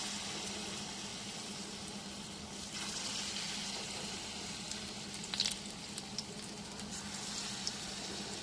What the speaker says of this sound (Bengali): আস্তে আস্তে আমি সবগুলো এভাবে ভেজে নেব।